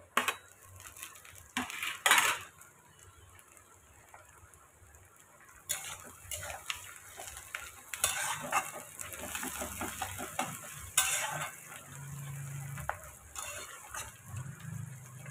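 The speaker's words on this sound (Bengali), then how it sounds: "এবারে কেটে রাখা লঙ্কাগুলো দিয়ে দেবো।" Chopped green chillies tipped into a pan of frying onions, with a low sizzle under scattered clinks and scrapes of a spoon stirring against the pan throughout.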